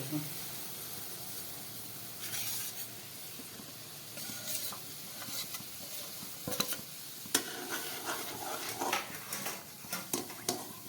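Rice flour being stirred into boiling water in a pot: a soft, steady scraping and stirring with a faint hiss, fairly quiet, with a few clinks and a voice talking over it.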